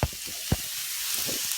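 Onion added to a hot pan still holding meat juices for an orange and cinnamon stew, a steady sizzling hiss with a couple of short knocks and scrapes, close.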